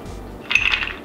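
Ice cubes dropping into a blender jar for an oat, banana and blueberry smoothie, a short bright clatter of a few cubes landing close by after a quiet moment, with no talking.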